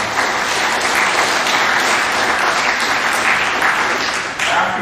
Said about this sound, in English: So give them a quick round of applause for finishing